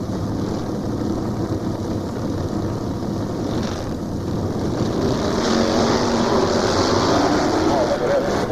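Drag racing motorcycles, including a Sportster, launch at an early-1990s strip, producing a loud, continuous broadband engine roar that swells slightly toward the end, with an announcer's voice running over it.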